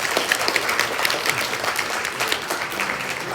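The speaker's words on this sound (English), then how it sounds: "let's have a round of applause for our actors" Audience applause for student actors at a high school mock crash event, a steady patter of clapping from a crowd that holds throughout at moderate level.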